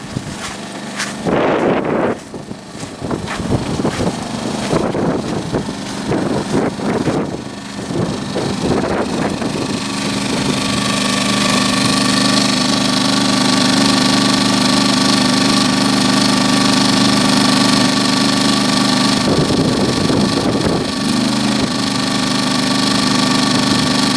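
A Champion 2000 W inverter generator runs in economy mode as a steady, fairly quiet hum with a constant low drone, heard alone after some brief handling knocks at the start.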